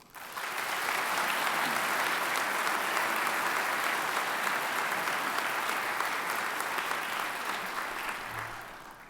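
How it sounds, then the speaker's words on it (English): A large audience at a medal of valor ceremony applauds steadily and loudly, a dense wash of clapping that holds for the whole stretch, fading slightly at the very end. "Please join me in a round of applause."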